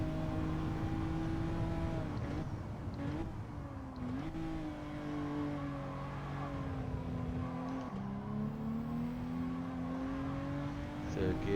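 Honda NSX engine revving and accelerating on the Daytona road course in Gran Turismo 7, a steady droning tone that climbs through the gears with brief dips at the shifts, heard under a voice.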